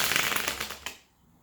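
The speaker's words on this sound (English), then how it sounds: "2 more shuffles, my love." Tarot cards being shuffled by hand, a dense run of crisp riffling flutters and papery slaps lasting about a second before cutting off into near silence; close and fairly loud, no talking.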